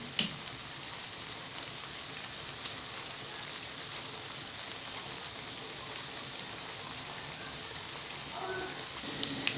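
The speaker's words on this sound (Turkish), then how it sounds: "Şimdi köftelerimi de yağın içerisine ilave edeceğim. Her iki tarafını da güzelce çevirerek kızartacağım." Chickpea falafel patties fry in hot oil with a steady, dense sizzle and crackle throughout, close and continuous, with occasional small pops.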